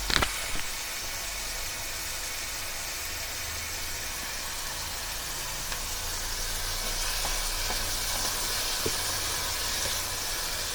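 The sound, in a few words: paneer with masala shallow frying in a pan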